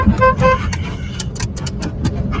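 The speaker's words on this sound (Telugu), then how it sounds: "హారన్ కొడుతున్నా కానీ వినిపించట్లేదే." Two short car horn toots sound near the start over a low engine rumble in Kuwait, followed by clicking and traffic noise.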